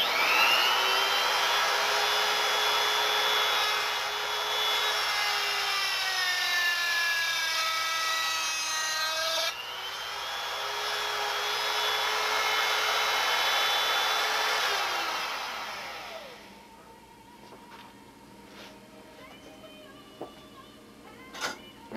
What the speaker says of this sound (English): I want to trim off the excess wire now